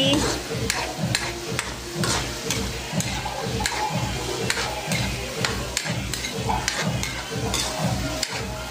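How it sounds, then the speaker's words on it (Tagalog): Potatoes and corned beef sautéing in a pan: a continuous sizzle with rhythmic scraping strokes of a spatula stirring throughout, close and steady. "Lagay natin yung ating patatas. Gumamit po ako ng 4 na patatas. Ayan. Ayan mga guys, igisa natin maigi"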